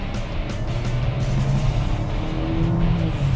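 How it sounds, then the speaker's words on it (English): A car accelerating hard, its engine note rising steadily as it pulls away, loud and close with no talking. "let's try and accelerate just a little bit, and see how fast this machine can take us"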